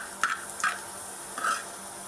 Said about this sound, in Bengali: দেখেন বন্ধুরা, পেঁয়াজ আর রসুনের মিশ্রণটা বাদামি কালার হয়ে আসছে